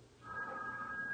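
Telephone tone from a call to 911: a faint, steady electronic dual tone that starts after a brief quiet moment and holds evenly to the end.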